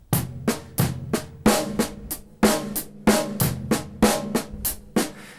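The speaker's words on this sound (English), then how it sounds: "Try keeping all the snares, the left-hand snares down here, but keeping them really quiet, and then playing the accents when they come up." Drum kit groove with quiet ghosted left-hand snare notes between louder accented hits and cymbal crashes, a busy, uneven rhythm played close with no talking.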